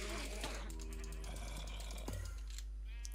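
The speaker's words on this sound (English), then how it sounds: "Oops, that's a sheep." A sheep in the Minecraft video game lets out a couple of short, nasal bleats, close and clear against faint game sounds, with no speech.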